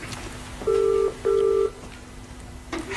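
Telephone ringback tone heard down the line, two clear double rings in succession, moderately loud with light background noise.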